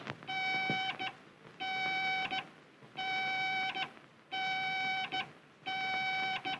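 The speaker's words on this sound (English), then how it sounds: "If I go to the right, I hear a series of dash dots." Radio range beacon in a pilot's earphone sends a repeating dash-dot signal, a long tone then a short blip, regular and clear over light background hiss.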